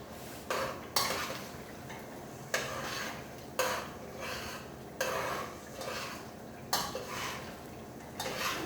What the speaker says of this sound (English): I'm frying the tin tomatoes for 1 minute.